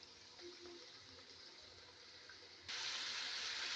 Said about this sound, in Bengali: অল্প একটু জল দিয়ে দিলাম একসঙ্গে মাখিয়ে নিচ্ছি সব কাজু বাদাম সর্ষে